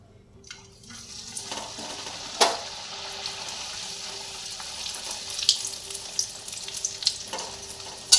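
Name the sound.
deep frying pea kachori in oil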